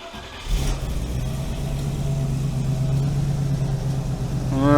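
A TVR V8 with a suspected misfire cranks and fires up after a brief pause, settling into a loud, steady, rumbling idle close by, then a quick rev rises in pitch at the very end.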